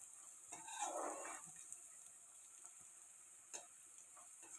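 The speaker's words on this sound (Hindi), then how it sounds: "मैं थोड़ा ही भूनती हूँ लहसुन को" Garlic fries in a pan for aloo methi sabji, giving a soft, quiet, steady sizzle with a few faint clicks and stirring scrapes.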